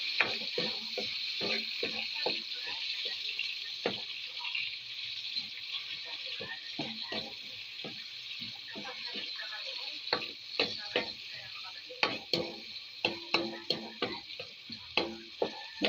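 Onion, garlic and tomato sauté in a hot pan for ginisang misua, a steady close sizzle broken by frequent clicks and scrapes of stirring that grow sharper toward the end.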